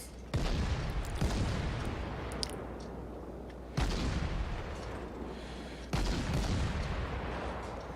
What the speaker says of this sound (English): You've got the guns mounted in the side, so you can do the circle of death and keep your guns firing.